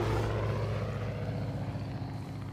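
An airplane in Far Cry 5 drones past with a steady propeller-like hum that slowly fades, heard alone without talk.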